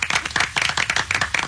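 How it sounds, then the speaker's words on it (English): A small audience gives a short burst of clapping, a quick uneven patter of individual hand claps close to the listener, lasting only a moment with no voices over it. "this is a round of applause for Duncan"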